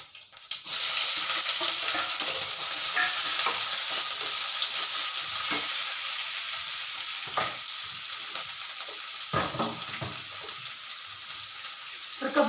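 Fenugreek seeds and onion frying in a hot pan, starting abruptly in a loud continuous sizzle that holds steady, with a few stirring scrapes and soft clatter partway through.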